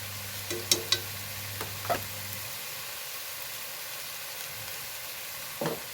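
Crushed ginger and garlic paste frying in a pan for a chicken dish, giving a steady soft sizzle broken by a few sharp clinks and scrapes near the start and one more toward the end.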